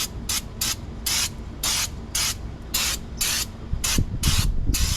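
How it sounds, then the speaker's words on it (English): Brake cleaner sprays onto a Nissan Altima front brake rotor in about ten short, loud, evenly spaced hissing bursts, close by and with no voices. "Now I'm going to clean the rotor off."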